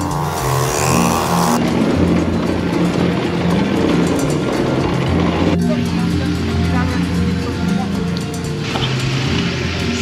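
ATV ridden through the wilderness of Bohol, its engine droning loudly and unevenly near at hand with rumbling wheel noise and passing traffic, continuous across the ride.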